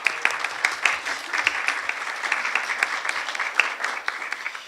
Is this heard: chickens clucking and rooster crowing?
no